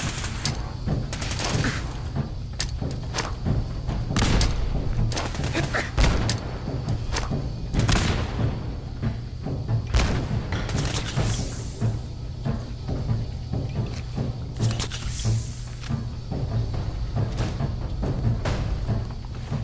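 Repeated gunfire in Fallout 4, a long run of sharp irregular shots and heavy thuds layered over constant low rumbling background, close and loud throughout the stretch.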